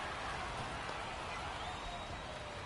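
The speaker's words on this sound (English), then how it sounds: "the rain's still a factor here" Rain falls during a baseball game, a steady dense hiss of drops on surfaces with no other clear sounds.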